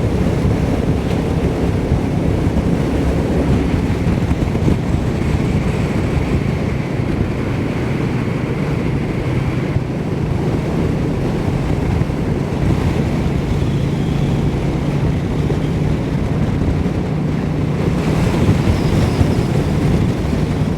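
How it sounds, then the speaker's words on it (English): Steady wind buffeting the microphone beside a Royal Enfield Meteor 350 motorcycle, a continuous low roar with no voices, rumbling loudly throughout. "Yes, it is a bit windy."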